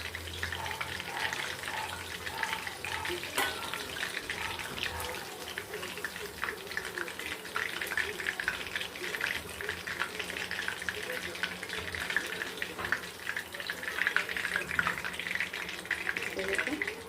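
Chicken lollipops frying in hot oil, a steady continuous sizzle and bubbling throughout, with occasional clinks, under a woman's speech.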